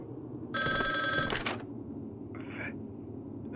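A telephone rings in the dark survival horror game Resident Evil Survivor, a single loud, bright electronic ring lasting about a second, followed by a fainter, shorter ring burst a moment later over a low background hum.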